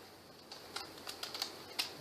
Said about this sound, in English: I'm going to go back with these little pattern scissors.